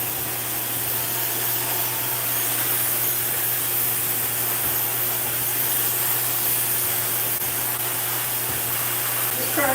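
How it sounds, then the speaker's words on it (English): A hair dryer blows with a steady, loud, unbroken rush of air and motor whine that runs throughout. "Trying to get this hair dry."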